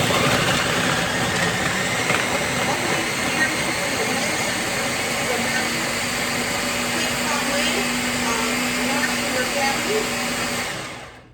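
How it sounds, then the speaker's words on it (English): A kitchen blender runs a moringa smoothie with apple juice, its steady loud whirring drone continuing nearly unbroken for about eleven seconds before cutting off at the end. "We're going to go ahead and we're going to blend this."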